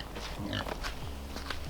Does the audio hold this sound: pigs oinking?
yes